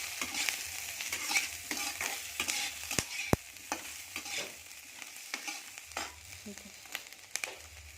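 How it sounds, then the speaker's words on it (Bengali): Dried red chilies frying in a pan of hot oil while potatoes brown for a paneer curry: a steady close sizzle with scraping stir strokes and light clinks throughout, no voices. "এবার ভেজে নেব।"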